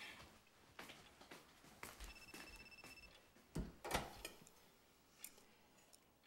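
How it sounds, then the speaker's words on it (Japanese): A telephone ringing indoors, faint repeated electronic ring bursts among quiet room sounds, fairly soft and somewhat distant, with no talking. "こんな時にも仕事の電話かよ。"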